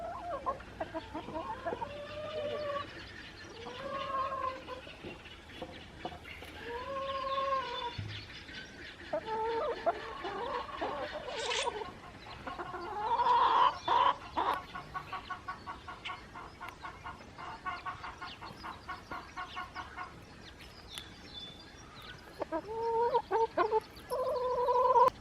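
Chickens cluck and call repeatedly inside a barn, with rhythmic, drawn-out clucking phrases at moderate distance, punctuated by occasional sharper squawks and soft scratching sounds.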